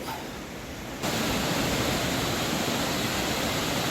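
A waterfall rushes and pours continuously as a broad, steady roar, suddenly growing louder after the first second and holding loud to the end; Hemlock Falls, Cloudland Canyon State Park.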